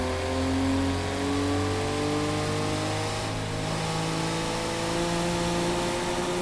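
A Porsche engine revs in the Project Cars 2 racing game, a loud sustained droning growl whose pitch climbs slowly and evenly, heard alone.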